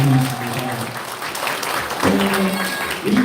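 At a book launch for lawmaker Yoon Sang-hyun, the audience breaks into sustained applause, a thick mass of clapping that carries on while a voice talks over it.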